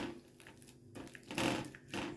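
A fork mashes ripe banana in a bowl: soft, faint, wet squishing and scraping in irregular bursts, close and quiet, with no one talking.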